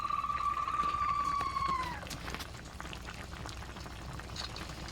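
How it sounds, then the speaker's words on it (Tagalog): Squid simmering in a pot of boiling water, bubbling steadily. A thin whistling tone rises over it at first, then fades, leaving a soft, continuous bubbling. "pag pakukuloy lang natin, pag kumulo na yan, luto na yan"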